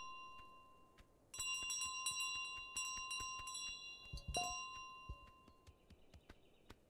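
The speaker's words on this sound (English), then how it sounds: "I get it! The bells!" Bells ringing in Untitled Goose Game, a run of bright, overlapping chimes and dings that start abruptly and repeat in clusters for several seconds, fairly close, with no talk.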